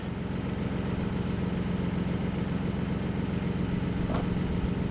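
A small engine on a wood splitter runs steadily and close by, a continuous low rumble holding an even pitch the whole time, with no talk over it.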